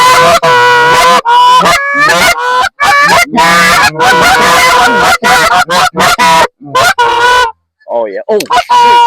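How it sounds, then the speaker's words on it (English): Flocks of geese honk loudly overhead during an early-season goose hunt, with dense, overlapping calls repeating almost without pause and only brief gaps between bursts. "There's more geese right above us."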